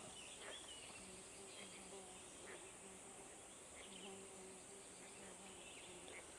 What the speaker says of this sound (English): you can hear so many bees and things going on